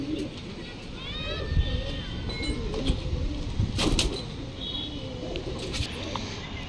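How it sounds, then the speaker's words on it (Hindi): Soft pigeon cooing and a few chirps under someone talking, with outdoor background noise throughout. "देखिए कितना शानदार कबूतर है"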